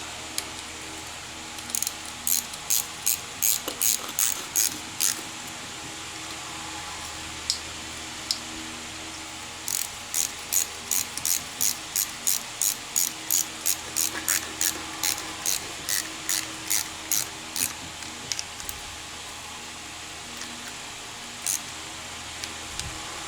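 A ratchet tightens bolts on a Suzuki engine, giving quick bursts of sharp rapid clicks in two main runs with a few isolated clicks, fairly faint over a low steady background.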